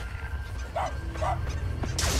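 A dog barks twice, then once more faintly, in the Killer Klowns video game, over a steady rumbling game soundtrack, with a sharp noisy burst at the end.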